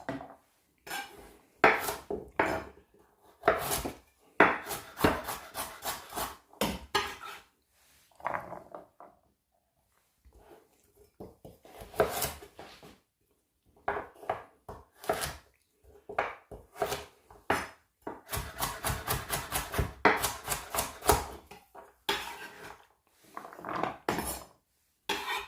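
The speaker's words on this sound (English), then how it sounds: "So here I'm just still chopping the vegetables." Knife chopping vegetables on a board in quick irregular bursts of taps, close by, with short pauses between runs of cuts.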